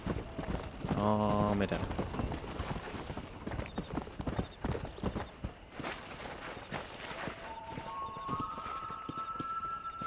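Horse hooves clip-clop at a walking pace in the video game Red Dead Redemption, moderately close and irregular, with brief spoken words and a short musical tone early on.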